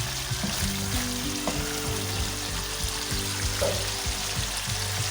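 Kebabs frying in oil in a karahi, a steady close sizzle with light crackles and occasional stirring noises.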